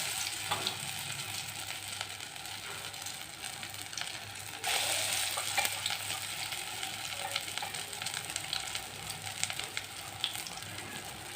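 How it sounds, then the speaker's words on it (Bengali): Fritters of batter dropped one by one into a hot wok crackle and sizzle steadily, the frying growing louder and busier about halfway through, with faint stirring and no talk. "কড়াই গরম হয়ে গেছে, একটা একটা করে ছাড়ি।"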